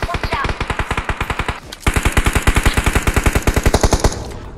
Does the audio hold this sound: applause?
no